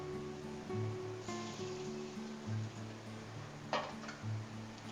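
Ash gourd is rinsed under water, producing a soft, steady splashing wash with a few brief louder splashes, faint and close.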